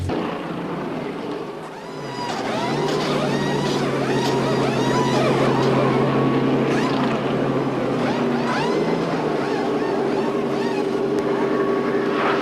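A pack of NASCAR stock cars roars past on the track, heard from inside a racing car as a dense, sustained engine roar with rising and falling tones layered over a steady engine drone.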